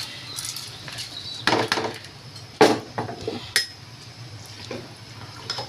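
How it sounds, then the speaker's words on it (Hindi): Rice dropped into a pot of boiling water for chana pulao, with scattered clinks of a utensil against the pot and soft splashing pours, close and moderately quiet. "अब इसमें मैं ये चावल अपने ऐड कर दूंगी।"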